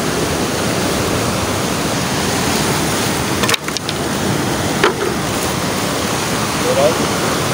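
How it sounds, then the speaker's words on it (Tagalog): Sea waves break at a windy shore during a fishing outing, forming a loud, steady wash of surf with a brief dip in the rush partway through. No speech is heard. "Ito yung alon dyan."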